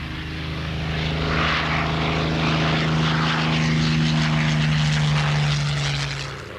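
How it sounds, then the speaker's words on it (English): A Hawker Hurricane RAF fighter plane's propeller engine drones loudly and steadily with a strong low harmonic hum, swelling slightly and holding for several seconds before easing off. "The Hurricane was the RAF's other main fighter."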